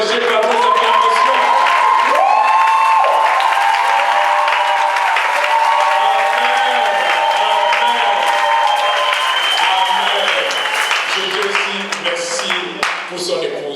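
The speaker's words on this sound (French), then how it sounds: "Est-ce qu'on peut l'encourager par vos acclamations?" A church congregation in Montréal applauds and cheers loudly for a preacher, sustained dense clapping with raised voices throughout, thinning slightly toward the end.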